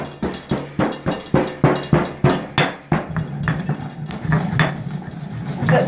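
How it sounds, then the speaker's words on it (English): Whole peppercorns and pink Himalayan salt pounded in a mortar with a pestle: a steady run of about a dozen sharp, evenly spaced thuds, close and loud, giving way to looser grinding and scraping with lighter knocks. "here I've got some whole peppercorns and some pink Himalayan salt that I'm just going to bash"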